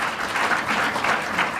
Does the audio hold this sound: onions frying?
no